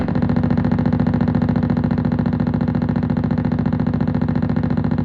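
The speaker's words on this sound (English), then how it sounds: "The drive channel though sounds like this." A buzzy, distorted tone with a rapid, steady pulsing flutter, loud and unchanging, from the faulty drive channel of a Fender Hot Rod Deville 410 guitar amplifier.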